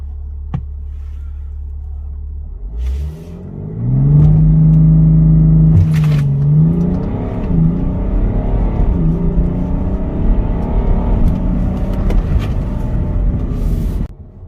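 A BMW X5 3.0-litre six-cylinder turbo diesel engine idles low, then revs up loudly and accelerates in sport mode, its steady drone climbing and holding at a strong, smooth roar before cutting off.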